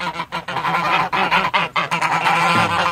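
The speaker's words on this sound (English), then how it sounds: "There's the geese." Geese on a small farm honk repeatedly in loud, overlapping calls, close by and continuous for the whole stretch, with no talking.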